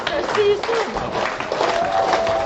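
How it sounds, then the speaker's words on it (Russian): A crowd applauds loudly, with dense clapping and excited voices rising over it throughout. "Аплодисменты!"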